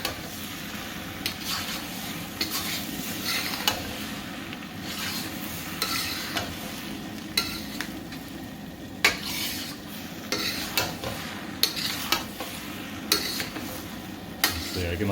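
Tomatoes stirred in a very hot pan for drunken noodles, steady sizzling and frying with repeated scraping and clinking of a utensil against the pan throughout, close and fairly loud, no voices.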